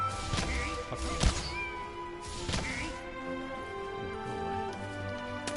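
A cat meows twice in long, drawn-out calls, loud and close, with a thump between them and faint background tones running underneath.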